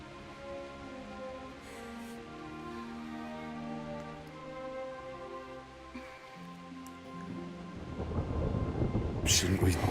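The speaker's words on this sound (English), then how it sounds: "Not afraid of thunderstorms, are you?" Thunderstorm with rain in the video game Kingdom Come: Deliverance. Low thunder rumbles roll on and on under soft, steady rainfall, then a louder burst of rain and rumble builds near the end.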